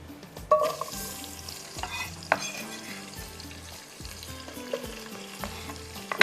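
Onions sizzle and fry in a pan for beef khara masala while a spoon stirs them, scraping against the pan in repeated strokes. The steady crackle is close and moderately loud, with no talking.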